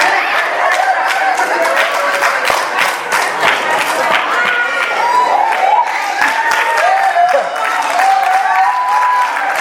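A podcast audience breaks into sustained applause, dense steady clapping with some cheering and chatter mixed in, lasting nearly ten seconds at a consistent loud level.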